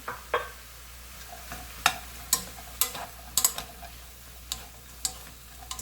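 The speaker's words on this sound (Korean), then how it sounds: "강약불에서 살짝 볶아줍니다. 여기에 마늘하고 당근 먼저 넣어주세요." Shiitake mushrooms stir-fried with garlic and carrot over medium-low heat: a quiet sizzle under sharp, scattered taps of a utensil on the pan, with no talking.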